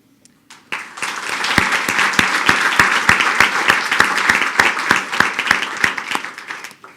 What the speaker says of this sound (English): I know it's a lot of clapping